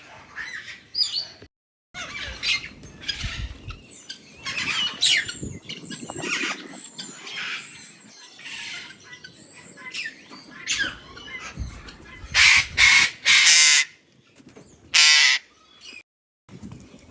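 Birds in aviary pens, not parrots, give loud, harsh crow-like squawks and caws in repeated close bursts, with noisy stretches between the calls and short pauses.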